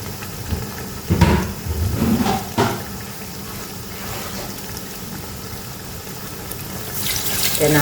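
Water pours into a cooking pot in a home kitchen while a bamboo-shoot panang curry is made, a steady faint splashing and trickling stream with a few louder bursts.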